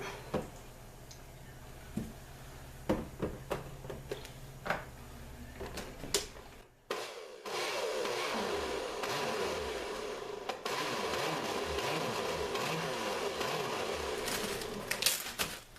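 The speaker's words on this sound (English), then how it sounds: "Blend that one more time." A blender whirs through a batch of horchata with vanilla extract, a steady, loud motor roar running from about midway to the end after a series of sharp clicks and taps.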